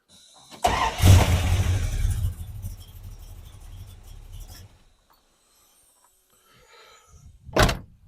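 A Dodge Dart with a suspected ballast resistor fault starts up. The starter cranks briefly, the engine catches and idles loudly for a few seconds, then shuts off into silence. A sharp click or door thunk follows near the end.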